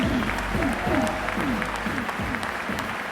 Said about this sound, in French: On peut l'applaudir, Romain Desgranges.